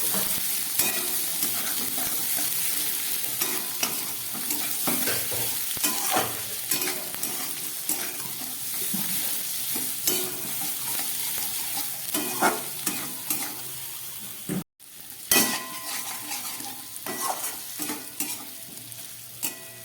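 Boiled potatoes get stirred into fried spices and chilli powder in a pan, a continuous hissing sizzle under frequent scraping and tapping of a spatula, close up, with a brief dropout partway through.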